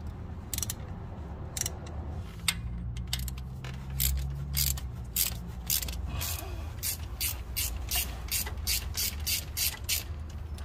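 A ratchet wrench with a 14 mm socket loosening a bolt on a Honda engine during timing belt and water pump work, giving close, repeated rapid clicking in bursts, with the pawl ticking steadily over several seconds.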